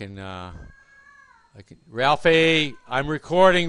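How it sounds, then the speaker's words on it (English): A house cat meows clearly near the start, then a person talks over the rest, with more short cat sounds mixed into the speech. "that's just my cat being ornery"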